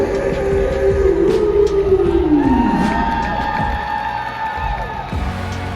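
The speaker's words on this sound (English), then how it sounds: "Keep that applause going for the New Zealand Aussies!" Crowd cheering and applause at a hockey game in an arena, loud and steady throughout, with a rising and falling siren-like horn sweeping over the roar.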